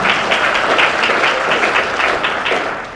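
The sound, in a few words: audience cheering and applauding for Lord Sumption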